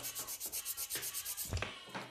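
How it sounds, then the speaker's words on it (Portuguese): A nail file rubs sideways across a gel (polygel) nail in quick, even back-and-forth strokes, close and soft, about a dozen rhythmic scrapes with a brief bump near the end. "E agora vamos limar lateralmente."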